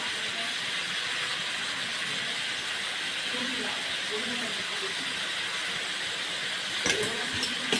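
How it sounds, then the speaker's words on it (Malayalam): Shallots (small onions) sautéing in a pan for chicken curry give off a steady, even sizzling hiss close by, with a brief faint voice partway through. "നമുക്കത് വഴറ്റാം"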